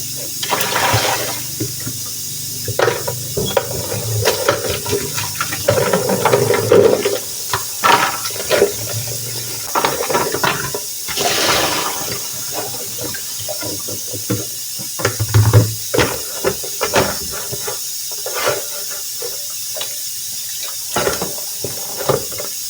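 Tap water runs and splashes as home-cured black olives are rinsed in a sink, with a steady stream broken by bursts of sloshing and pouring over about twenty seconds.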